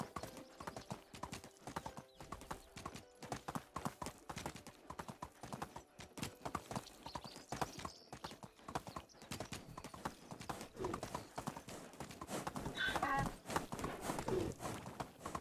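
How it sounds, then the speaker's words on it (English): A donkey ridden in the medieval survival game Medieval Dynasty, heard as steady, close clip-clop hoofbeats running throughout, with a brief braying call rising near the end. "I love donkey noises."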